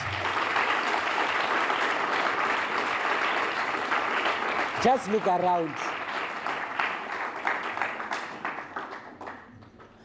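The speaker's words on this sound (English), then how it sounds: "Let's clap hands for FBA" A crowd at an FBA welcome and mentorship day claps steadily, with a brief spoken voice rising over the applause midway before the clapping tapers off toward the end.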